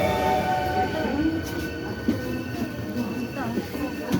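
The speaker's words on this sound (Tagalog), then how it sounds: "There's another train." Train pulling into a station in Osaka, rumbling and clattering at moderate distance with squealing brake tones and rail noise, while people talk nearby.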